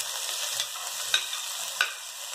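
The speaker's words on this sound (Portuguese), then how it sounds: "eu coloquei umas 4 colheres de óleo aqui e vou fritar essa cebola até ela ficar douradinha" Chopped onion fries in a few spoonfuls of hot oil in a pan, a close steady sizzle with a couple of sharp ticks as it is stirred, no voices.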